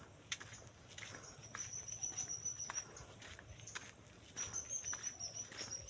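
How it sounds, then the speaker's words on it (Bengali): Evening ambience in the Dhamja Sal forest, with a high steady chorus of crickets over a quiet background, broken by occasional faint clicks and soft rustles. "চারিদিকে জঙ্গল।"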